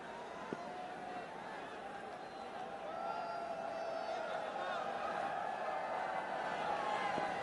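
A crowd at a cricket ground at night during a Bangladesh Premier League match, a steady far-off roar and murmur that swells slightly partway through, under a commentator's voice.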